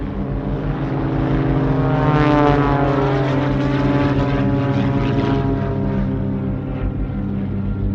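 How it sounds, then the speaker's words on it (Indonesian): A British propeller aircraft flies over the city of Surabaya in 1945, a loud, steady droning engine with a throbbing beat that swells and slowly fades, with no voices. "masyarakat Surabaya dikejutkan oleh sebuah pesawat Inggris yang melayang-layang di atas kota"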